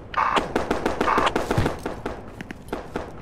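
Rifle fire in the video game Project Reality as a magazine is emptied, a rapid series of sharp, fairly close shots at an uneven rhythm, thinning out toward the end.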